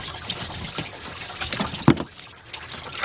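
A/C system on a 2006 Chevy Silverado C1500 draining liquid into a pan, a soft steady trickle with a few close knocks, no speech.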